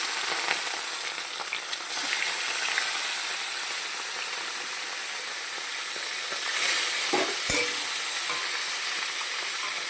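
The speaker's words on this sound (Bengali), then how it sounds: "মাছ ভাজতে খুব ভয় লাগে" Pieces of bhola fish fry in hot oil, a strong, continuous crackling sizzle close by, with a couple of sharp utensil clatters near the end.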